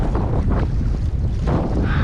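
Strong wind roars and buffets the microphone continuously while mackerel fishing, a loud low rumble with gusty surges and no voices.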